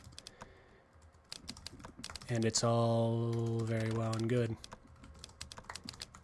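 Clicky keystrokes from a wireless keyboard tap out in quick irregular bursts, close and fairly quiet, with someone talking over part of the typing.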